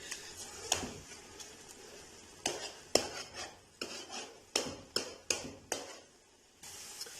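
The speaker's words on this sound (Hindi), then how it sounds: "अभी हम इसको घी के साथ अच्छी तरह भून लेंगे।" Grated carrots for carrot halwa being stirred and roasted in desi ghee, with repeated sharp clinks of a metal spoon against the pan over a faint sizzle, at an irregular rhythm.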